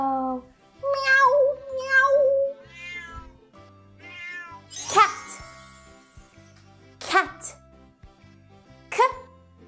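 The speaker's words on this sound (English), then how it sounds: "The cat says, meow." Cat meowing in a children's farm-animal song, several drawn-out rising and falling meows spread across the stretch, fairly close, alternating with a person speaking.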